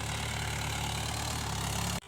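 A tractor engine idles steadily in a farm field, a continuous low rumble with a deep throb that holds constant before cutting off abruptly at the very end.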